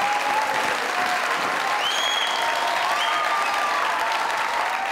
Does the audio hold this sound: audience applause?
yes